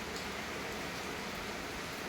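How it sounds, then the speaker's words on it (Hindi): Very heavy rain pours in a dense, steady hiss with no breaks, filling the clip evenly at moderate loudness. "यहाँ पर शुरू हो गई है बहुत तेज की बारिश"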